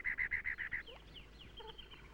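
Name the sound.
cactus wren harsh repetitious call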